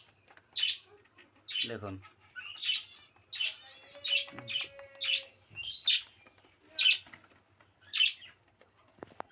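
Cockatiels chirp in a pair of caged birds, giving about ten short, bright, close calls spaced at fairly regular intervals. A quiet hum sits underneath, and one brief spoken word is heard.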